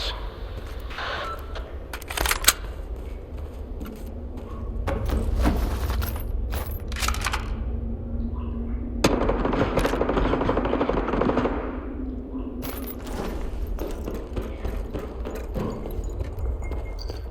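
Bursts of gunfire in the shooter S.T.A.L.K.E.R. 2 crack out in scattered single shots and rapid clusters, some sharp and close, others dull and further off, over a low background rumble.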